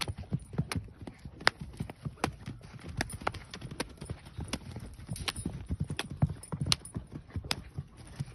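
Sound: horse hooves clip-clopping

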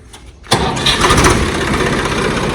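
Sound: Swaraj tractor with Kirloskar engine starting

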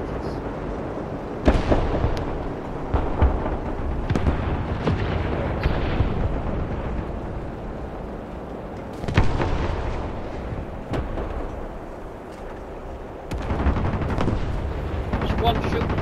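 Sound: gunfire at the player's tank in War Thunder (video game)

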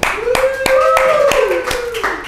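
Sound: studio guests clapping

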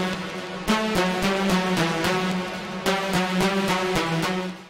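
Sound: synthesizer lead melody with saw waves

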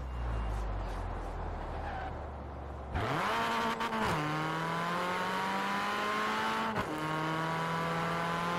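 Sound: video game car gear shift noise

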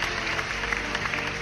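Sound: round of applause sound effect

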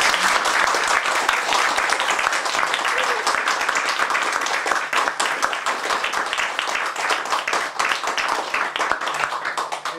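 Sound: audience applause after a lecture

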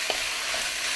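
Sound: stir-frying beef in a pan

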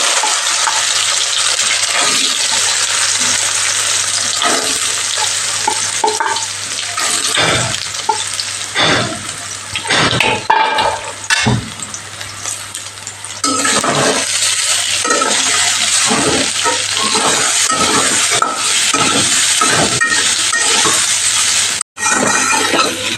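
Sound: soybean chunks frying in hot oil in a wok

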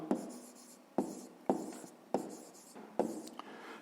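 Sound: writing by hand

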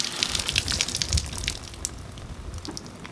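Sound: water flowing to cool a Stihl GS 461 concrete chainsaw

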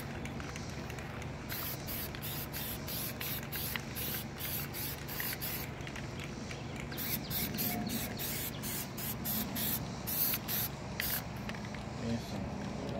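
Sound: spraying Plasti Dip onto 2018 Ford Explorer wheels

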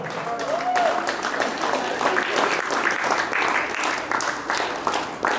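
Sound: audience applause

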